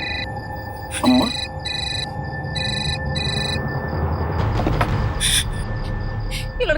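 A telephone rings repeatedly in short, evenly spaced bursts and goes unanswered, with a brief voice and background noise around it.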